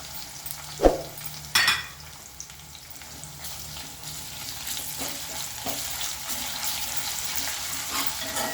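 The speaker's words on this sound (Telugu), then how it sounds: "అల్లమెల్లి పేస్ట్ పచ్చివాసన పోయేదాకా వేయించుకోవాలి" Ginger garlic paste frying in a pan for chicken gravy, with two utensil knocks at the start, then a continuous close sizzle that grows a little louder and steadier.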